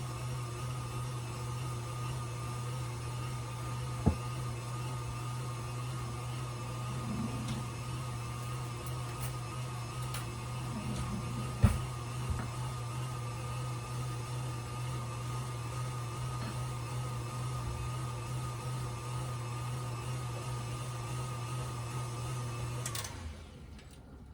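Electric mixer whirring steadily at medium speed through pumpkin cookie dough, a constant close hum with a couple of faint clicks, running alone until it stops abruptly near the end.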